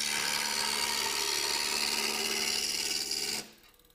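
A roughing gouge cutting a wooden spindle on a lathe makes a steady, harsh, hissing scrape with a faint rhythmic flutter, close and even, until the cut stops abruptly near the end.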